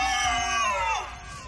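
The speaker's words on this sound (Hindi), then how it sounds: "दर्द से चीखने और चिल्लाने की आवाज पूरे होटल में गूंज उठी" In a hotel scene of an audio drama, a man screams in pain: a loud, strained, tonal wail that holds, then bends downward and fades after about a second.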